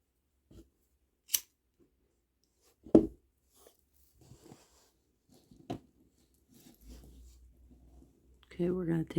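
Scissors snip kandi bead string a few times in sparse, close clicks, with brief handling noises and a burst of nearby talk toward the end.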